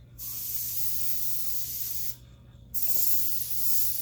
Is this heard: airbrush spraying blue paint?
yes